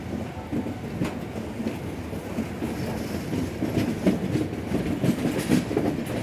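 A superfast express train on Indian rails takes a curve into Vijayawada Junction, heard from on board, with steady rolling rumble and rhythmic clickety-clack of wheels over joints, some faint squeal, continuous and fairly close.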